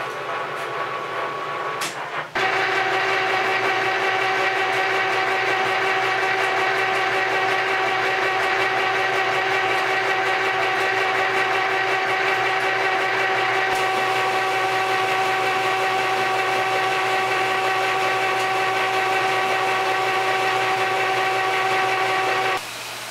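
A metal lathe turns an Oshkosh rear axle tube, a loud steady machining whine with sustained tonal hum that starts abruptly and runs unbroken to the end.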